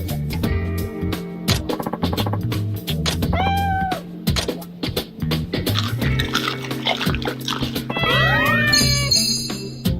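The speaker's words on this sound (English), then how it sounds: "Watching how much the cat enjoys it makes it worth it." A cat meows repeatedly while eating sea bream in the samurai game Like a Dragon: Ishin, with close, loud cries over light tinkling and watery background sounds.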